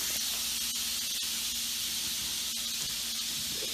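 Butter heats in a pan with a continuous, even hiss and steamy sizzle that runs loud and unbroken throughout, with no voices.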